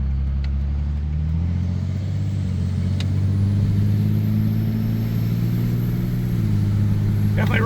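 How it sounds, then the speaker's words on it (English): A Cummins diesel truck engine drones loud and steady, revving with a deep exhaust rumble and a drop in pitch near the end, with one or two brief knocks. "That sounded like exhaust banging around."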